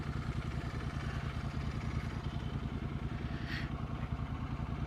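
Motorcycles are parked in the shade at Hingalgunj near the Bangladesh border, with an engine idling in a steady, rhythmic chug at moderate distance.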